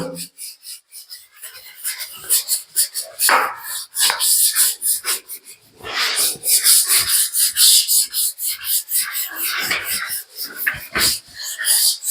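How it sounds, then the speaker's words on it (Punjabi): Bathroom floor tiles are scrubbed with a brush or scrub pad in rapid back-and-forth strokes, a close, gritty rasping that comes in bursts with brief pauses. "ਇਸ ਤਰ੍ਹਾਂ ਆਪਾਂ ਸਾਰੇ ਨੂੰ ਰਗੜ ਦੇਵਾਂਗੇ"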